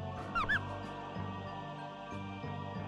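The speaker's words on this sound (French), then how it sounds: "Pourquoi tu fais un bruit de chocobo quand tu glisses?" Chocobo-like chirping slide effect in the Star Ocean First Departure video game, a quick pair of warbling squeaks near the start over steady game music.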